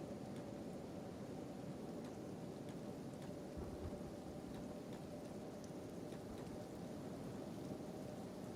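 Steady acid rain pours without pause in the dark wasteland of the video game Kenshi, a dense hiss of falling drops with faint low rumbles of thunder.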